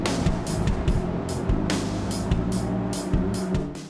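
Engines of a Tesoro Isurus I30 motor boat run at full throttle, a loud continuous droning roar broken by rhythmic thumps and splashes as the hull strikes water, with no talk.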